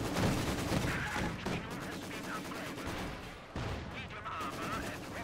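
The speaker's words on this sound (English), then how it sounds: "Machine gun fire incoming." Machine gun and battlefield gunfire in the real-time strategy game Company of Heroes 2, with dense, rapid bursts and booming shots layered into a continuous, busy combat din, with no talking.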